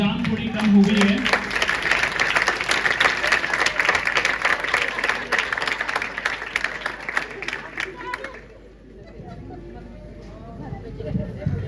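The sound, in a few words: audience applause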